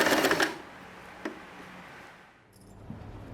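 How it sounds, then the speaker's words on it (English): A sewing machine stitches fabric for a turban hat in a short, rapid, close burst at the start. It stops abruptly, leaving a quiet room with a single click and faint handling noises. "We sew around the circle, remove the clip, continue sewing"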